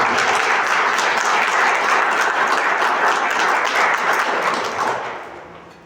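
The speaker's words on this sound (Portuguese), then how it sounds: "Se você crê, aplauda esse Deus." A congregation applauds through a Catholic sermon: dense, sustained clapping fills the room at steady volume, then fades away over the last second.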